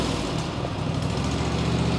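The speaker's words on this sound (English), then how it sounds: "it'll start, and I'm going to bring it down to idle." Craftsman T240 lawn tractor engine running at a steady idle just after starting, a continuous low rumble with no talking over it.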